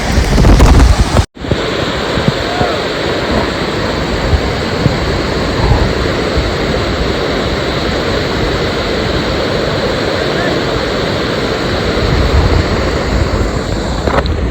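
Kune waterfall at Lonavla pours down in a loud, continuous roar of rushing water, with gusts buffeting the microphone throughout.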